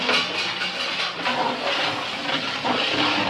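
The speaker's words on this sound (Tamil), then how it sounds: "அடுப்பு எப்படி கொந்தளிச்சு எரியுது பார்த்தீங்களா" A cooking fire roars fiercely beneath a large pot of mutton biryani, a steady broadband hiss and rush that stays loud and unbroken throughout, with no talking.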